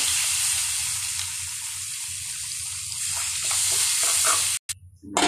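Chopped bottle gourd fries with green chilli, turmeric, bay leaf, salt and onion, giving a close, even sizzle that holds steady and then breaks off near the end with a few clatters and a brief gap.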